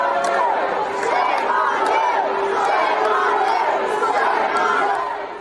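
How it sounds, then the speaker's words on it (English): An angry crowd at a Clark County School Board meeting shouts and jeers at board members, a dense, sustained roar of raised voices that swells and holds before tapering off at the end. "The angry crowd shouted at board members"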